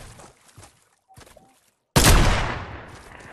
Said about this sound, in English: You just sniped at me though.